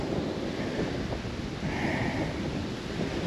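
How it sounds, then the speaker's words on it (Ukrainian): Steady roaring wind buffets the microphone outdoors at a fishing spot in worsening weather, a loud continuous rumble with no voices. "Погода портиться, вітер усілюється"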